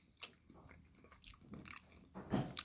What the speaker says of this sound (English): Now we're going to be trying the shrimp.